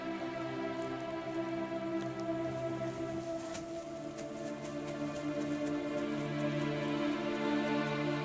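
Long-season rain falls steadily on the East African savannah, a soft, continuous patter blended with sustained droning musical tones throughout.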